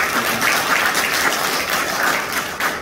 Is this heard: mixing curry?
no